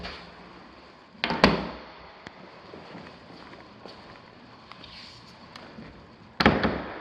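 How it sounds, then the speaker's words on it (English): Two heavy door thuds a few seconds apart, each with a short rattle, over a steady airy background hiss. "Doors are closing."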